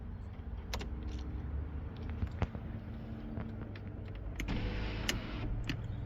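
Electric sunroof on a four-cylinder AMG Mercedes gliding open, a steady motor hum inside the cabin with a few clicks and light knocks, close by and with no talking.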